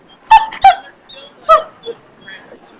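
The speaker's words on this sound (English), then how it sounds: "There's a dog right there under the bench." Dog under a bench letting out a few high whimpers and yips in quick succession, close and clear with quiet gaps between them.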